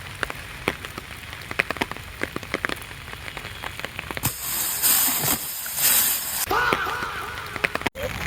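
Rain falls in KBR Park, Hyderabad, with a steady patter of drops, scattered sharp ticks and a louder hissing downpour surge midway through.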